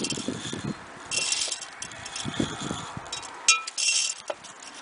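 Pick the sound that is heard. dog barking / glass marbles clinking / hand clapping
glass marbles clinking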